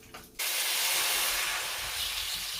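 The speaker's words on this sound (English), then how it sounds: "you want to just deglaze the pan, get all those brown bits that stuck" Liquid hits a hot skillet used for garlic butter chicken and bursts into a loud, sustained hiss of steam after a brief quiet start, fading only slightly.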